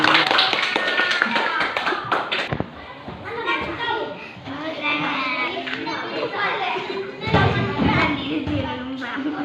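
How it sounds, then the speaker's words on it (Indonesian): A classroom of children clapping during a teaching session, quick scattered claps tangled with lively kids' chatter and voices throughout, loud and close for most of the stretch. "Tepuk tangan untuk Ripal."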